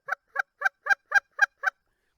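A handheld goose call imitates a Canada goose takeoff call with seven short, evenly spaced honking clucks, close and clear against silence.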